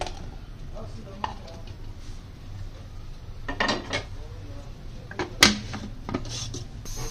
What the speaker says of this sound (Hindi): तो इसको हमने चॉपर में डाल के चॉप कर लेना है